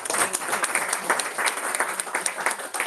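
A Toastmasters club anniversary meeting audience applauds with steady, dense clapping, fairly loud and close, continuing throughout without talk.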